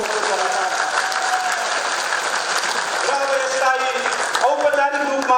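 An audience at a formal ceremony for signing an agreement between the Nepal government and the Nepal Communist Party keeps up steady, dense applause throughout, with a voice and tonal sounds emerging near the end.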